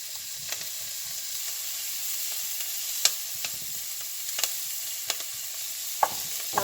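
Asparagus spears frying in butter in a pan give a steady, soft sizzle, with occasional sharp ticks and pops from stirring, heard close and alone without any talk.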